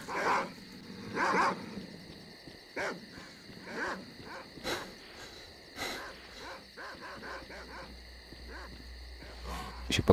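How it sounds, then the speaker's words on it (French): Several dogs bark and yelp in the video game S.T.A.L.K.E.R.: Call of Pripyat, with repeated rough barks of varying loudness over a droning game background. "On se fait emmerder par des chiens."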